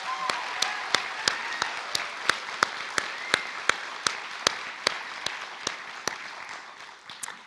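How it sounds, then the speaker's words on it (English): A graduation ceremony crowd claps for the Alexander Early College Class of 2023, a dense sustained applause with sharp individual claps punctuating it at a regular pace until it starts to fade near the end. "Give them a round of applause."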